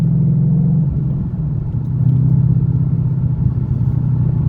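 Steady low exhaust drone of a 2014 Ford Mustang GT V8 with a replaced full exhaust, heard from the cabin, a continuous loud rumble that swells slightly partway through, with no talking.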